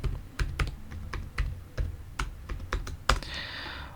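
Someone types a password on a computer keyboard, producing a series of crisp, irregular key clicks close by, roughly a dozen taps spread over a few seconds, ending with a slightly louder final press.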